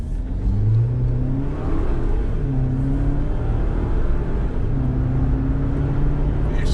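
A 2019 Jeep Wrangler Unlimited with a 2.0 turbo engine revs up under acceleration, its pitch climbing steadily, then dropping sharply at each gear shift before rising again, loud and continuous from inside the vehicle.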